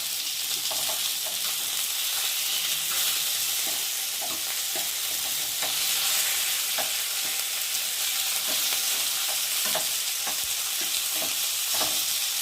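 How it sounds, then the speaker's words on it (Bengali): Fish frying in a pan after being turned to cook both sides, a steady close sizzle with light scattered pops and crackles, no voices. "মাছ এক পিট করে হয়ে গেছে আর এক পিট করে উল্টে দিয়েছি দু পিট করে ভালোভাবে ভাজা হয়ে গেছে"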